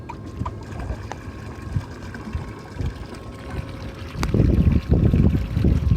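A bilge pump pushes water out of a 2020 Bass Tracker boat, a steady low trickle and churn that swells louder and splashier in the final couple of seconds, with no talk.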